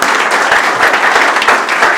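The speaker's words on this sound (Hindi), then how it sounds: "तालियां" Dense, loud applause from an audience at a student placement celebration, steady clapping throughout a short burst.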